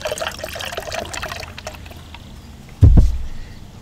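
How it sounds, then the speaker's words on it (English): Pineapple juice being poured into a cocktail shaker for a tiki drink, a gurgling liquid trickle that ends in a brief louder splash and thump near the close. "And then we're going to do 4 ounces of pineapple juice."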